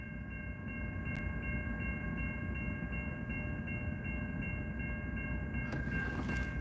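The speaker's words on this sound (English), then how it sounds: "Why is this train stopped?" A large train rolls by close at hand in a steady, continuous rumble with faint sustained squealing tones, and a brief metallic screech near the end.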